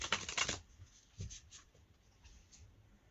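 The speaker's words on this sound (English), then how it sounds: "12 minutes of shuffling" Tarot cards are shuffled close by in a quick riffling burst at the start, followed by softer intermittent card slides and taps.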